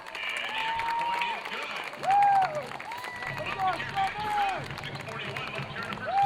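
A Moorpark home crowd at a high school football game against Pacifica cheers and claps in a lively swell, with whistles rising over the noise and a commentator talking throughout.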